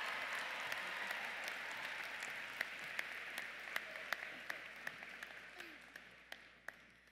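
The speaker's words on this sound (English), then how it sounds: "Please join me in applauding ESSOWE TELOU" A high school graduation audience claps for a graduating student receiving an award, a fairly quiet, dense patter of applause that thins gradually, leaving scattered individual claps toward the end.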